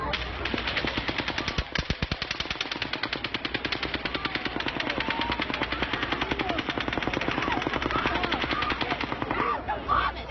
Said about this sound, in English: But then, a sixth burst of fire.